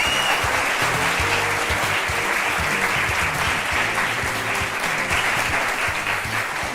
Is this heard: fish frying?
no